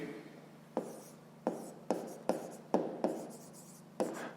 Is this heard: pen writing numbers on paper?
yes